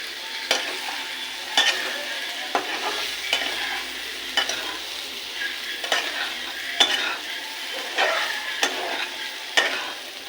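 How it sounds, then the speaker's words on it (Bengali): A ground spice mix of chili, cumin, coriander, turmeric and salt sizzles in a pan for shoya curry while a spoon stirs and scrapes it, steady frying broken by regular sharp scraping strokes, close and without talk. "মশলাটা দিয়ে একটু ভেজে নিয়েছি"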